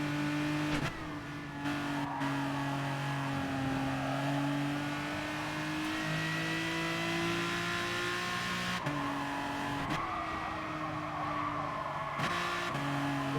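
An Aston Martin DBR9 race car engine in Gran Turismo Sport, droning loud and steady with rising and falling pitch through gear changes, with brief shifts and lifts before pulling again.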